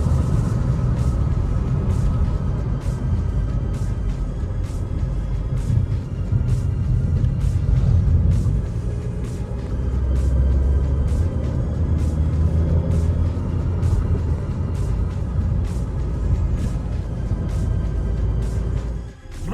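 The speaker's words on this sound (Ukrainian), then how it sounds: "Двигун хороший, тяговитий." Steady low diesel engine rumble of a 2013 Skoda Octavia Scout 2.0 TDI with DSG gearbox on the move, continuous and fairly loud throughout, with faint road noise and no voices.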